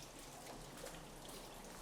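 Rain falling on a scaffolded construction site at a commercial-to-residential development, a soft steady patter and hiss of drops, faint and continuous with no voices.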